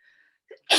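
A single sharp sneeze bursts out close by at the end, preceded by a faint breathy intake.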